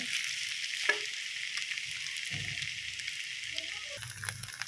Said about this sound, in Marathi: तुरडाईचा जे सुद्धा आहे ते टाकून छान परतवून घ्यायचं साधारण दोन तीन मिनिट